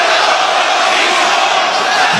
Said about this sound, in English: You can hear the 50-50 split between the raucous crowd here in Atlanta.